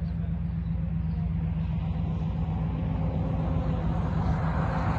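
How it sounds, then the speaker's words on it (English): A tanker truck rumbles past nearby, making a steady, low, droning engine roar with no speech throughout. "Tanker truck."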